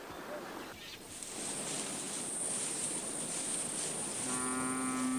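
Maasai cattle lowing in Amboseli, Kenya, a long, steady moo carrying at moderate distance over outdoor ambience, with a higher tone entering toward the end.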